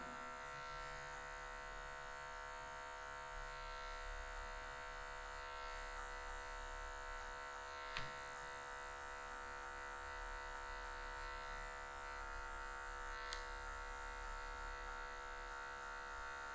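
Electric hair clippers buzz steadily while cutting afro hair in a low fade. The motor hum is faint and continuous, with a couple of brief clicks and no talking.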